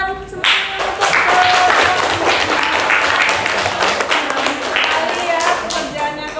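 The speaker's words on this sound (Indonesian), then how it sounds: "tepuk tangan semuanya untuk" A classroom of students claps for group 4's work, lively loud applause from many hands with some uneven individual claps, continuous for several seconds with voices faintly mixed in.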